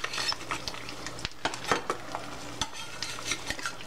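A sunny side up egg fries in a non-stick pan with a steady close sizzle, punctuated by sharp utensil clicks and scrapes against the pan.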